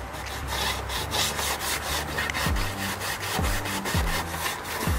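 Wood finish being rubbed by hand onto a wooden headboard, giving repeated close scrubbing strokes in a steady back-and-forth rhythm with no talking.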